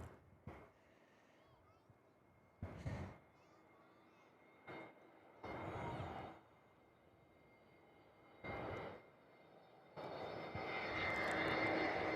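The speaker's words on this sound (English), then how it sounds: "Jetstar 111, the A321 Neo, the service in from Bali now on final." A Jetstar Airbus A321neo on final approach is heard as a faint, distant engine roar that swells toward the end, with several short bursts of talk breaking in over it.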